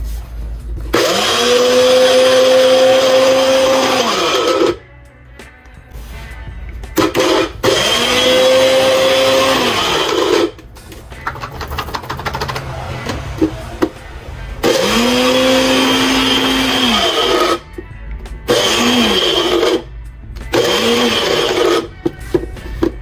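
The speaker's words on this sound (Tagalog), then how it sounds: "At pagkatapos ay i-blender na siya." A blender mixing turmeric herbal tea with apple cider roars loudly in several bursts of a few seconds each, its motor pitch rising and falling, separated by brief pauses and clatter.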